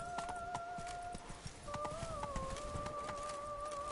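Roach the horse trots in The Witcher 3, a steady run of hoof clip-clops over sustained musical tones from the game.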